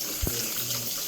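Hot water splashing in a sink as dishes are rinsed in a home kitchen in Trinidad, a short steady wash with a faint thump near the start.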